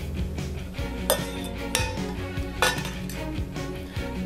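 Metal ladle clinks and taps against a bowl while sauce mixture is spooned onto dango, several sharp light clinks over a low background hum, close and quiet, no talking.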